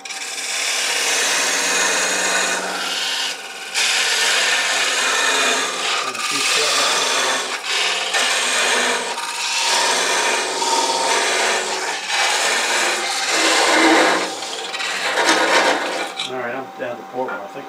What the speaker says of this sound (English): Always get the tool rest out of the way when you're sawing.